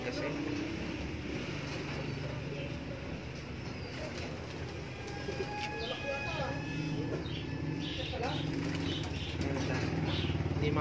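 Racing pigeons in a loft, hens among them, coo softly with occasional chirps and wing flaps in a continuous close background murmur, while people talk throughout.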